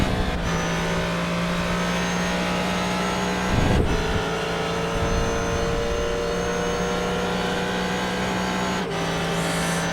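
A GT3 race car in iRacing runs down a long straight at Road America, its engine droning loud and steady with a sustained high whine and a brief rumbling shift, heard from onboard.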